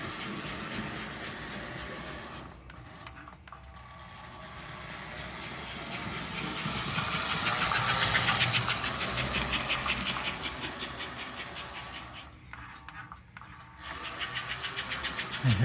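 A restored vintage 1954 American Flyer #336 Northern toy steam locomotive with a new smoke unit runs on its track, a continuous hissing, whirring motor noise that swells and fades in the middle, with no voices.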